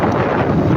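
Cold wind rushing over a motorbike rider, a loud, steady, broadband roar buffeting the microphone for under a second, with no voices.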